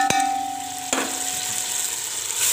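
Onion, tomato and ginger paste frying in a pan for a cauliflower chicken curry, with a constant close sizzle, two sharp metallic knocks near the start and a brief scrape near the end.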